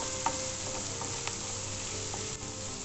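Onions fry in a pan with a soft, steady sizzle while being stirred continuously, with faint scraping clicks from the spoon scattered through, fairly quiet and close.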